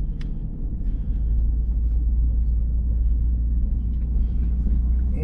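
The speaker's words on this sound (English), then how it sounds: "we're spinning, but it's going. It's digging out." Ford F150 Tremor on new Goodyear Duratrac RT tires spinning in ruts while digging out, a steady loud low engine rumble with constant tire roar throughout, no talk.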